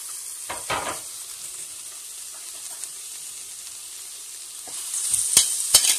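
Meat sautéing in a preheated pan for a potato and eggplant tas kebab gives a steady soft sizzle throughout, with a few louder crackling bursts and utensil clinks near the end.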